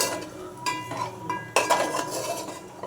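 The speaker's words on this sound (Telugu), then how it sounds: "ఇలా అయితే కలిపేసుకోవాలి మొత్తం" A spoon scrapes and clinks against a pan while spicy curry with extra chili powder is stirred and mixed. The stirring comes in close, irregular bursts with faint sizzling underneath, and no one speaks.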